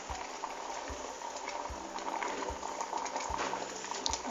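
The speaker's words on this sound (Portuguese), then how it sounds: "Tá fervendo com a água, com as ameixas e com o açúcar." Water with plums and sugar boils in a pot, a soft continuous bubbling simmer with faint rhythmic low thumps, quiet and steady throughout with no voices.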